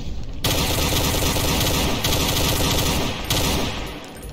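Gunfire rattles nonstop in the Aliens mod of the video game Doom, a loud, dense burst of rapid automatic shots with brief dips in the volley.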